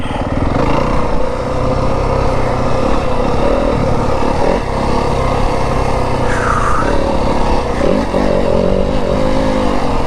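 2025 Yamaha WR250F dirt bike ridden through the Arizona desert, its engine droning loud and close with rising and falling revs throughout.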